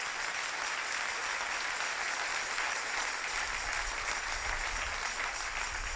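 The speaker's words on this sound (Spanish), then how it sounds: "Dale ese aplauso al Señor en esta preciosa y linda mañana." A church congregation applauds during a Sunday morning service, a steady, dense wash of many hands clapping that holds at an even, moderate level for the whole stretch, with no voices over it.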